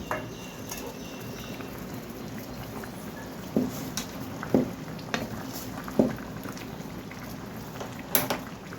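Potatoes, meal maker and coconut pieces simmering in a masala curry, a low bubbling burble with soft, spaced pops and a few light spoon or lid knocks nearby, with no speech.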